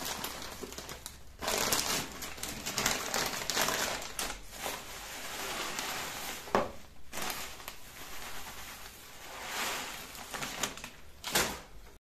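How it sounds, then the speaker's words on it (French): Perlite poured into fertilized potting soil while repotting a monstera, giving a dry crunching, crinkling rustle that swells and fades in bursts over about twelve seconds, close up with no speech. "je vais ajouter un petit peu de perlite sans trop"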